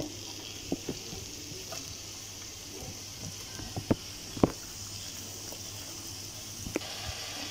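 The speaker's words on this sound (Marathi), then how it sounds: "आता आपण हे व्यवस्थित परतून घेऊया" Ground coconut masala sizzles softly in a pan for mutton rassa, with occasional scraping taps of a spatula stirring, quiet and close, no voices.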